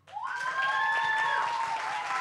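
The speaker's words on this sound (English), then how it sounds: "A lot of people cheering for you." An audience at a youth English public speaking contest applauds a second runner-up in the senior division, steady clapping rising quickly and holding strong throughout, with a voice faintly audible over it.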